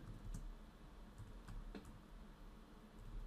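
Text is typed on a computer keyboard in a quiet run of faint, irregular key clicks.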